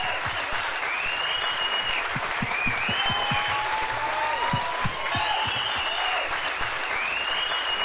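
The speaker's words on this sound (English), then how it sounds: "how about a nice big round of applause for all of our dancers this evening?" An evening dance-show audience claps steadily for the dancers in a dense, sustained round of applause that holds at an even level throughout, with scattered whoops and whistles over the crowd.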